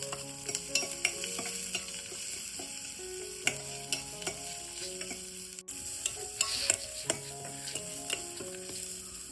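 Onion fries in a pan with green chillies and curry leaves, a continuous low sizzle with scattered stirring clicks under a steady backing of melodic music.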